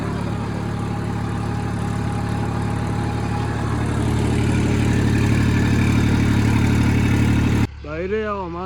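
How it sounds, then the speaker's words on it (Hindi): A tractor working a farm field, pulling a harrow, runs with a loud, steady, low diesel drone and a constant hum close by. It cuts off near the end, and a voice follows. "भाई रे, अब हमारा ट्रैक्टर चल रहा है दूसरे खेत में।"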